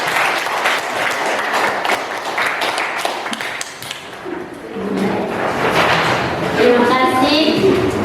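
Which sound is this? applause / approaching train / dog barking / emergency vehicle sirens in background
applause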